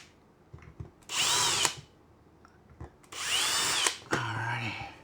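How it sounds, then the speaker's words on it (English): Power drill boring holes for mounting hardware near a vent, in two loud bursts of about half a second each with quiet pauses between, followed by a lower-pitched whirring run at the end. "Drill"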